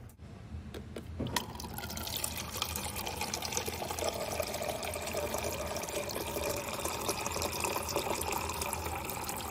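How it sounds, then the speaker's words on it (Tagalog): Broth poured into a pot of misua soup with shrimp and zucchini, a steady liquid pour and splash that runs continuously at moderate level after a few brief clatters at the start. "Guys, magdagdag pa tayo ng sabaw."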